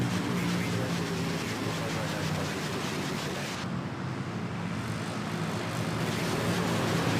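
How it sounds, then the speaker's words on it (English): Airplane departing on runway 13 at Manila Airport, a steady, loud jet engine roar rushing continuously and alone, heard from the field. "Now we have a departure on runway 13."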